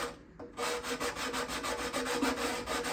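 A sanding block rubs back and forth on a wooden guitar binding, a close, rhythmic series of dry scratchy strokes that starts after a brief pause and continues evenly.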